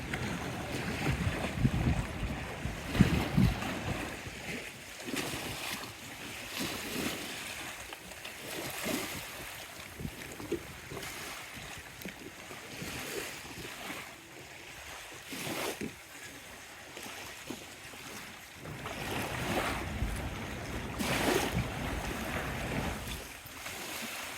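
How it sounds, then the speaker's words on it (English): River water at a very high tide on the river beach at Teignmouth rushes and laps in a broad, uneven wash, with gusts of wind swelling and fading throughout. "Hopefully you can get some of the sounds of the water."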